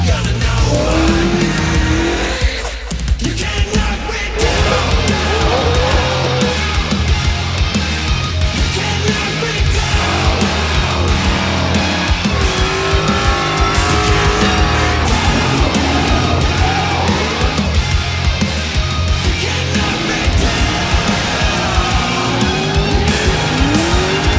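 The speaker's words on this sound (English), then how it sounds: "I'm super excited to watch the drag racing, drifting, and burnouts" Cars drifting and doing burnouts at a drag racing and drifting event, with loud continuous engine roar and sustained tire squeal filling the whole stretch, close and intense without letup.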